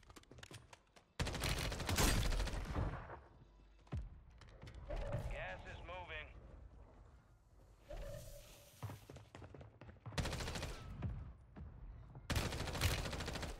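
Shotgun blasts in Call of Duty Warzone on Rebirth Island, several loud sharp bursts spaced across the stretch, with a voice talking between them.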